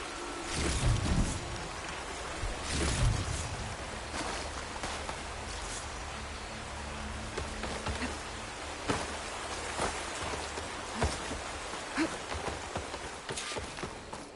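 Steady rain hissing across a landscape in the video game Horizon Forbidden West, a continuous dense patter at moderate level with a few sharper drops and thuds, no talk.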